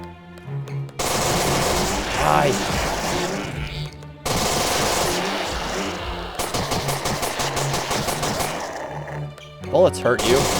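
Rapid bursts of machine gun fire in the video game Aquacreep, loud and close, coming in several volleys with short gaps, with talk running over parts of the shooting.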